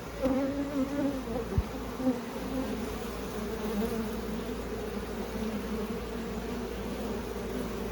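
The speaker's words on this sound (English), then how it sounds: "I dumped some more of the bees out of the bucket onto the board" A swarm of honeybees tipped from a bucket onto a board hums steadily nearby, a continuous droning buzz with no voices over it.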